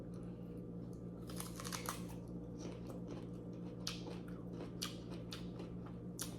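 Someone takes close, crisp bites of a fresh, just-picked crunchy peach, skin and all, then chews. The repeated crunches and wet chewing are soft but near, with no talking.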